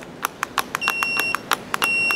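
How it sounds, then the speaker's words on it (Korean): A cordless 54V chainsaw, 2.8 kg, with its side brake engaged, gives a rapid series of short, sharp electronic beeps in an uneven rhythm, close and clear, with steady high tones ringing underneath. "작동이 안 되면서 삐삐 소리를 알려줍니다."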